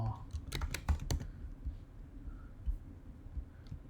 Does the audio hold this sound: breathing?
no